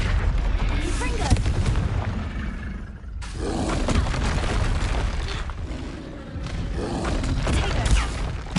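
A Confringo spell blast in Hogwarts Legacy: loud, sustained booming explosions and rumbling roar filling the whole stretch, with a brief dip before the blasts resume, heavy and continuous.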